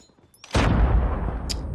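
A single loud, sharp shot from a Rainbow SPR rifle in a multiplayer Hardpoint match booms after a brief quiet moment, then trails off in a rumbling echo.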